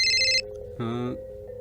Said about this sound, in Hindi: ए मुश्ताक, फोन किसका है?